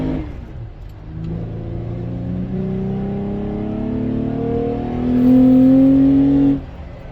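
A lifted Toyota Tacoma TRD Off Road with a Borla cat-back exhaust and cold air intake revs hard at full throttle, its deep engine note climbing steadily in pitch and loudness before dropping off.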